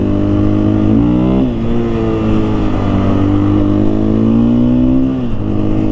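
Motorcycle with an Acerbis X Seat ridden at high speed, its engine droning steadily and loud up close, with pitch shifts as the rider shifts gears amid constant wind rush.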